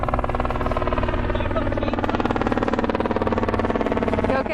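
A helicopter flies overhead in a wooded area, its rotor producing a loud, rapid rhythmic chopping pulse that stays steady and close throughout, with faint voices underneath.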